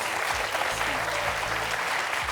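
A studio audience on a French TV quiz show applauds, a steady dense burst of clapping with a little low background sound underneath.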